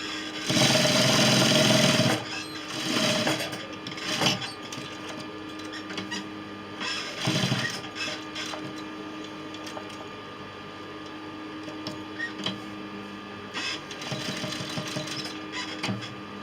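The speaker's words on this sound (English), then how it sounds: "So we sew it down." Sewing machine stitching down a placket, opening with a loud continuous run of stitching followed by shorter start-and-stop bursts and quiet handling noise between them.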